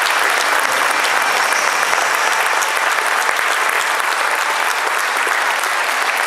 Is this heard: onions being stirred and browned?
no